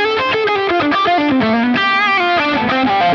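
Sustained distorted electric guitar lead through a Line 6 Helix or HX Stomp, with smooth, singing notes and pitch bends, loud and upfront with a processed, effected sheen.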